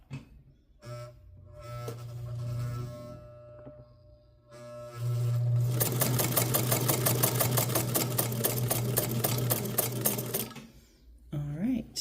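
A Hamilton sewing machine set to its widest stitch runs a zigzag in a fast, even mechanical patter for about five seconds after a quieter hum, close up, with a voice heard briefly before it starts.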